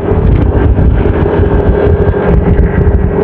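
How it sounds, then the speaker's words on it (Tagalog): Strong wind buffets a helmet-mounted microphone on an outdoor ride, a loud, steady low roar with rumbling gusts and no voice over it. "malakas ang hangin"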